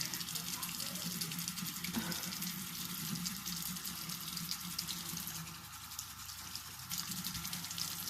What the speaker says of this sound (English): I rinse it off of my rag.